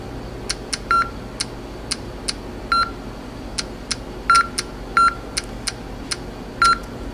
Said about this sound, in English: the clicks here are just progress indicators, and the beeps are the counts